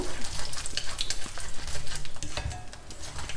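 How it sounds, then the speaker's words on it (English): Split dals and dry red chillies frying in oil in a pan, a close continuous sizzle with crackling pops and the scrape of stirring, no talk. "Fry the dals well."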